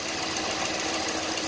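A 5.7 Hemi engine running with a tick, a steady mechanical whir and rapid fine ticking clatter, close and continuous for a brief stretch.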